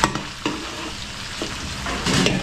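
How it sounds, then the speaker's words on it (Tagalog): Garlic and onion sauté in a pan, a close steady sizzle broken by several sharp scraping stirs of a utensil against the pan at irregular intervals, with no talking. "mo na lang natin maluto yung bawang sibuyas natin"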